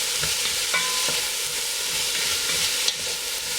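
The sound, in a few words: onions frying in avocado oil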